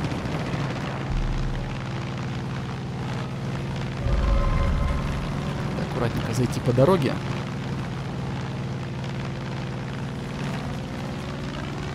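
An airplane in the video game Far Cry 5 drones with a steady engine hum throughout, swelling with a rougher roar and whooshing midway, while someone talks over it.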